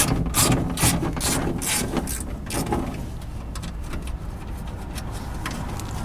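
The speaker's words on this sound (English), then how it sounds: "Just taking out the window mechanism right now. It's just a 10 mil all the way across the board." A ratchet loosening 10 mm bolts from the window regulator mechanism inside a Honda Prelude door: rapid, loud pawl clicking in close bursts at first, then quieter intermittent clicks.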